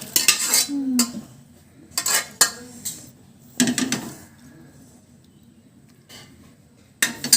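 Cooked food is moved from one cooking vessel into a clay pot, and metal utensils clatter and scrape in several sharp bursts, separated by quieter pauses.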